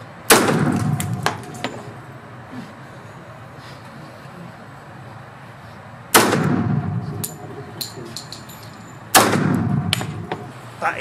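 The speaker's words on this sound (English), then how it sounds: "That is the most funnest gun I've ever shot, but also the hardest gun to hit." .45 pistol fired at a shooting range: three loud, sharp gunshots spaced several seconds apart, each with a ringing decay, plus faint clicks and handling noises between shots.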